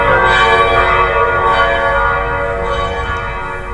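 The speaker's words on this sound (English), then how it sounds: "Hear the mellow wedding bells." Mellow wedding bells ring in a dense, continuous peal of overlapping tones, loud and sustained throughout, with no voices present.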